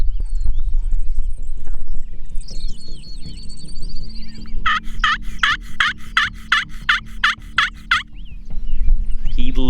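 A wild turkey in the strut zone gobbles loudly several times in a quick rapid-fire burst midway through, standing out clearly over low outdoor rumble.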